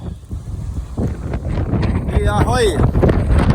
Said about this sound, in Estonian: Tuul on maru.